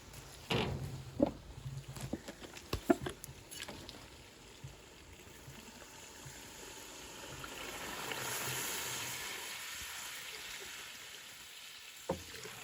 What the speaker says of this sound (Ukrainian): Так, зараз заливаю водичкою.